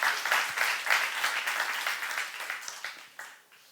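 A church youth congregation applauds together at a sermon, a dense wash of many hands clapping that swells early then gradually thins and fades toward the end, with no voices over it.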